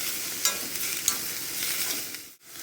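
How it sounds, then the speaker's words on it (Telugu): Onions and tamarind fry in a pan for a spinach and onion dish, giving a steady close sizzle with a few stirring scrapes and one brief dip in the sound. "తర్వాత ఒక 10-20 ఎల్లిపాయలు కలిపి మంచిగా ఫ్రై చేయాలి"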